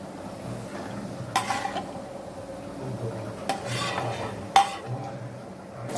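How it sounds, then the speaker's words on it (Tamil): Almonds roasting in ghee in a pan are stirred with quiet scraping and rubbing strokes, a few sharper scrapes standing out over a low steady background. "பாதாம் நல்லா வறுப்படட்டும். வறுப்படுற வரையும் நல்லா அதை கிண்டி விட்டுக்கிட்டே இருங்க."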